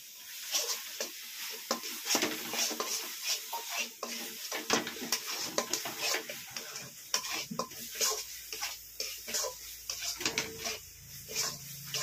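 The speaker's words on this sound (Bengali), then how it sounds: "দিয়ে ভালোভাবে মিশিয়ে নেব।" Milk powder, sugar, crushed cardamom and chopped almonds are stirred together in a pan as a sweet mixture, with repeated scraping and clinking strokes close by and faint sizzling underneath, while a voice talks intermittently.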